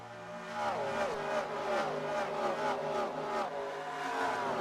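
Race cars in a racing video game at Homestead-Miami accelerating on a restart, engines revving up through repeated rising gear sweeps, a loud, layered whine of several cars climbing in pitch together.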